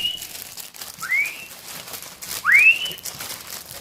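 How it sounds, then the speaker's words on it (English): Plastic veggie bag crinkling beneath two rising whistles, a short one and then a louder, longer one, used to call guinea pigs; the bag rustle is soft and steady between the whistles, with no talking. "So I crinkle the bag and I whistle."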